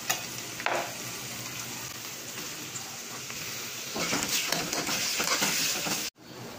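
Tomatoes sautéing in hot oil for fresh alamang with kamias, a steady loud sizzle with stirring scrapes, rising a little toward the end before stopping abruptly.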